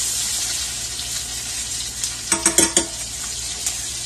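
Ahi tuna pieces sear in a hot pan with a continuous close sizzle, broken by a brief cluster of clinks and handling clatter near the middle.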